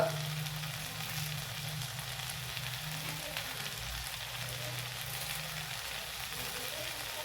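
Ginger-garlic paste sizzles and fries in a pan with sautéed onions, a steady crackling hiss under a low hum, broken by occasional scraping stirs throughout.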